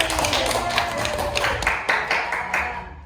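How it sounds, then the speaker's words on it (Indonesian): A classroom gives a brief round of clapping for a student, the dense patter of many hands filling the room at moderate loudness with no talk over it. "Kita beri tepuk tangan untuk Ari"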